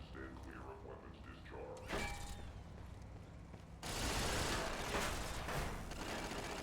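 Automated Mark 6 turrets firing in Fallout New Vegas, with mechanical whirring and clanks that give way to a loud, sustained burst of rapid gunfire, over game ambience.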